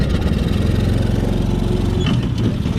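A mini jeep's small engine runs loud and close with a steady, buzzing drone while it is shifted into third gear, its pitch wavering slightly near the end.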